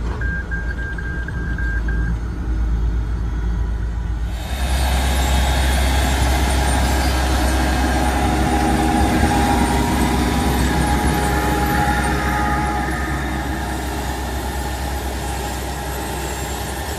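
The 1,100 horsepower Big Bud 16V 747, the world's largest farm tractor, pulls away at about five miles per hour, its heavy diesel engine droning loud and steady with a deep low rumble that thickens as it takes off.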